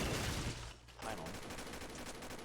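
Turret gunfire in the video game Combat Arms, heard as a short, fairly faint burst of rapid shots with a brief pause partway through.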